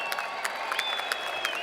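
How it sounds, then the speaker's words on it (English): A crowd at a Front Street Fights event applauds a fighter in a brief burst, with scattered individual claps standing out over a steady background of hall noise. "Nice round of applause for Scotty, ladies and gentlemen."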